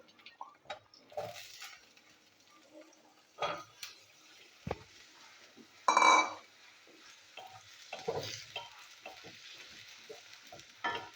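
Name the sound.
potatoes frying with onion in pan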